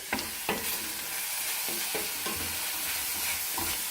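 Garlic sizzles in a hot pan for a tater tot casserole, a steady close frying hiss broken by several scraping spoon stirs.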